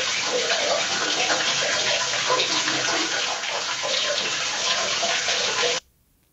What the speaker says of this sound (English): That sounds like tap water running in the bath